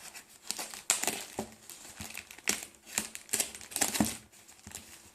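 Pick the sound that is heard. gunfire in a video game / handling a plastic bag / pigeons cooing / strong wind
handling a plastic bag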